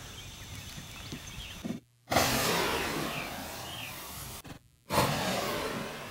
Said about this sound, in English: listen to these discs as these guys make these crushing shots